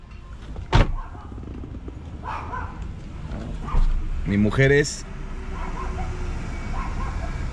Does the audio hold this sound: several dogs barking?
yes